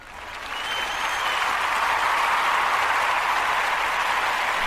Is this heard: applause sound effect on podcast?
yes